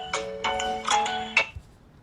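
A mobile phone ringtone plays a short, bright melodic phrase of several quick notes, fairly near and alone, then stops.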